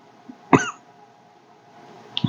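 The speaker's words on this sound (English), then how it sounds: "It's the camera. It's making me cough." A person working on a stuffed craft project gives a single sharp, close cough, followed by a faint throat sound at the end of an otherwise quiet moment.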